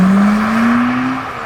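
A Smart #1 Brabus electric car accelerating hard in BRABUS mode, heard from inside as a loud, steady rising electric whine over road and wind rumble, no talking.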